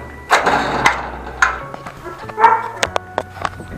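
A dog barks repeatedly out in the street, sharp loud yaps in an irregular burst with several quick follow-up barks, alone without talk.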